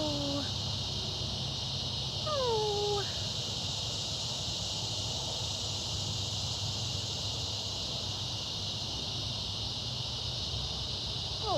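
Cicadas drone in a continuous, shrill, even buzz on a morning walk at a big cat sanctuary, a steady wall of insect noise with a few brief chirps rising over it.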